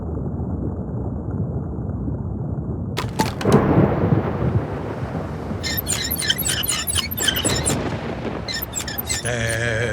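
Stormy sea in the video game Another Fisherman's Tale: a steady roar of wind and surging water, with a loud thunderous crack near the middle and sharper creaking and splashing bursts later.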